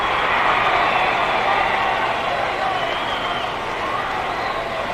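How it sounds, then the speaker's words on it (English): Wrestling crowd at a 1962 Los Angeles match between Rikidozan and Freddie Blassie, a loud continuous roar of yelling voices filling the hall, steady throughout. "Crowd is yelling for Rozan to follow up his advantage"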